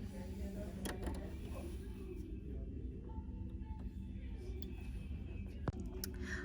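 Serger stitching a facing onto a back neckline piece of a cowl neck tee, a steady close-up motor whir running continuously with a low, dense hum throughout.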